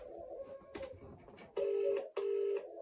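A telephone is dialed to call a friend: a quick run of short keypad beeps, then two long, steady ringing tones with a brief gap between them, fairly quiet and with no one talking.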